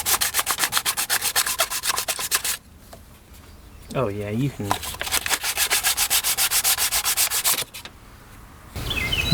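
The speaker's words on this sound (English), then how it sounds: "I'm going to try and sand this with my little fake sanding block" Rapid rhythmic scraping of a makeshift sanding block rubbing back and forth on a pitted water neck repaired with JB Weld, with pauses, a brief voice, then more fast strokes.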